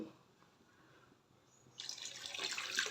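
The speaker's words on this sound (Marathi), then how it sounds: "आता याच्यामध्ये जसं पाहिजे तसं पाणी घालायचं" Running water pours steadily into a pot of Maharashtrian curd kadhi, starting abruptly partway through after a quiet stretch and continuing as a bright, splashing flow.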